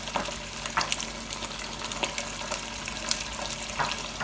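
Rice lightly toasting in a pan for mandi, a steady soft sizzle with occasional scraping stirs and small clicks, close by and with no talk.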